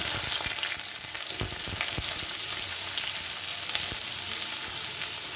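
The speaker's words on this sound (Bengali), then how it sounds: "তেলটা আমার গরম হয়ে গেছে এবার এর মধ্যে আমি পেঁয়াজটা দিয়ে দেবো" Onion sizzling and frying in hot mustard oil in a wok on a gas stove, a steady dense crackle with occasional stirring scrapes, close and continuous with no talking.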